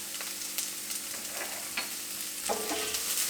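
Chopped onion and garlic sizzle and fry steadily in a hot pan for Maharashtrian phodnicha bhat, with a utensil scraping and stirring through them in a few soft scrapes, close and continuous.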